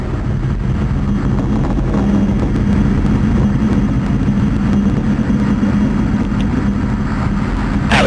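Rocket engine power from NASA's Lucy space probe launch, roughly a minute into flight, heard as a heavy, unbroken rumbling roar at constant loudness with no voices over it.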